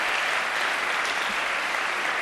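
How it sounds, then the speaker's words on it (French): Applause from a TV studio audience fills the whole moment, a dense and steady patter of many hands at a strong, even level with no speech over it. "Quelques applaudissements"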